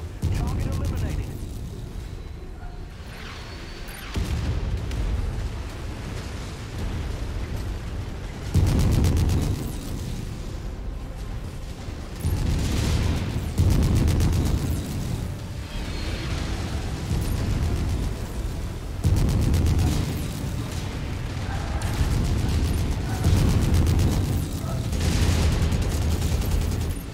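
Heavy artillery explosions in the MechWarrior 5 video game, repeated deep booming blasts every few seconds over a constant rumbling battle din, with someone talking throughout.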